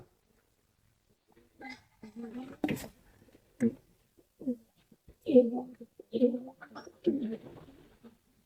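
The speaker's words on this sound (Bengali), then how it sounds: "সিরাজি কবুতরটা এই সিরাজি কবুতরটা" Soft low coos of Sirazi pigeons recur in short bursts, fairly close, with a few brief sharper sounds between them and quiet gaps.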